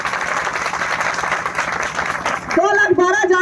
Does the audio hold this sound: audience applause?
yes